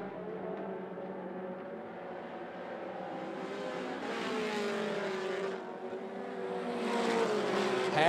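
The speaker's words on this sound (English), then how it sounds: "they're about eight car lengths in front of third place, Dan Dugan." Mini stock race cars roar around 411 Motor Speedway, their engines a dense, sustained drone that swells louder toward the end as the pack passes close, with no talking.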